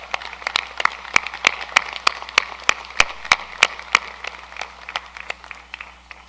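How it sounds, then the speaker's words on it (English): A small group claps sparsely at a graduation ceremony, with distinct individual hand claps at an uneven rhythm, fairly close, with no talking. "let's give them a round of applause for everything they have accomplished"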